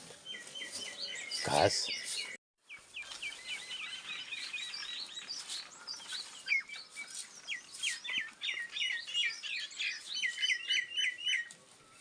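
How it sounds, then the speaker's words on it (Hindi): A flock of myna birds chirping together in a tree, a dense run of rapid, overlapping tweets and calls lasting throughout, close and steady, with a brief spoken word early on. "इस पेड़ में मैना सिंटुलिया वो अपनी मीटिंग करने लग गए"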